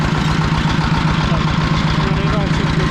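Fighter T20 motor tractor engine idling steadily up close, a continuous low throbbing chug with even rhythm and strong low rumble, with no pauses throughout.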